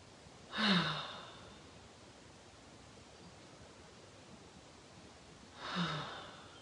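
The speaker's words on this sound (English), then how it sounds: "So you take 2 letting go breaths in this pose." Two deep, slow breaths taken during a yoga pose, each a soft airy exhale a few seconds apart, close and quiet with no talking.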